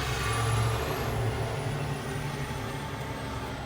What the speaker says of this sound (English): wait for this truck to go by here